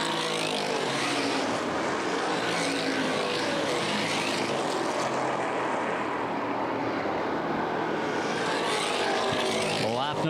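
Street stock cars race on an oval track, their engines roaring loudly and continuously as they pass, with a commentator talking over the noise.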